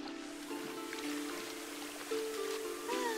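Steady rushing spray of a shower under a waterfall in The Sims 4, a continuous hiss of falling water with faint tonal game sounds layered over it.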